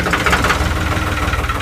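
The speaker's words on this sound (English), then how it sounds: "Okay, the engine's going" A narrowboat's diesel engine runs at a rough, rapid idle, a loud, close, rhythmic knocking chug that stays steady throughout the short stretch.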